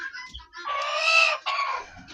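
Chickens and roosters being chased squawk loudly and close by, a drawn-out panicked cackle that breaks into a second burst, with a brief scuffle at the start.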